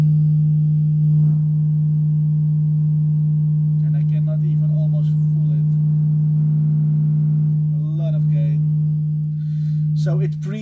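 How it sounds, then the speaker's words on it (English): A loud, steady pure tone from a Eurorack mixer with its gain turned up holds unbroken for about ten seconds, while faint chirps and quiet talk surface in the background. "Now I turn on the gain."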